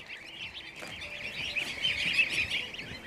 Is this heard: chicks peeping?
yes